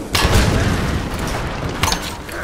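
Explosions in the game Tomb Raider (2013), two loud close booms with a rumbling tail between them, no talk over them.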